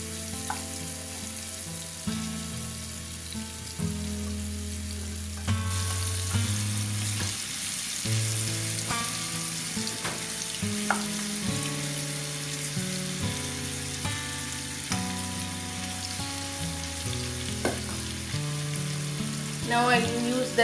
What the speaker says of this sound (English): Now we'll fry the marinated prawns.